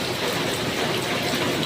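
Rain falls steadily on a wet morning, an even, close wash of patter with no breaks and no voices.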